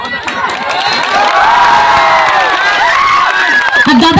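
A large crowd at an outdoor Hindi political rally cheers loudly, with shrill ululation and high shouting voices rising and falling over a dense, steady roar. Scattered clapping is mixed in, and the sound is near and continuous throughout.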